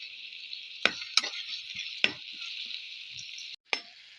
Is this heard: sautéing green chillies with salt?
yes